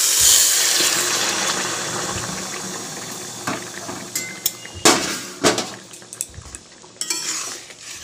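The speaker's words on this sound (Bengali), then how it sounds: "জলটা ফুটে এসছে। জলটা এবার আস্তে করে ঢেলে দেবো।" Boiled water is poured slowly into a cooking pot, a soft, rushing hiss that tapers off, followed by several close metallic clanks and knocks of the pot and utensils.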